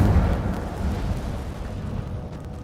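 An Incendio fire spell cast in a fantasy video game, a loud, close roaring whoosh of flame with a heavy low rumble that slowly fades over a few seconds, with no voices.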